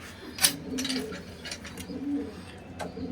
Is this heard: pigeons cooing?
yes